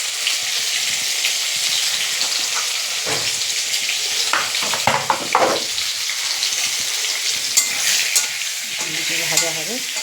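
Potatoes frying with turmeric in a pan, a steady close sizzle with occasional stirring scrapes and clatters of the spatula against the pan, no talking.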